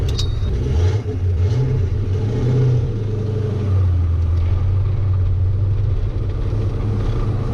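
A 1,000 rear-wheel-horsepower Trans Am engine rumbles loud and close from inside the car, its pitch rising and falling with revs before settling into a steady drone.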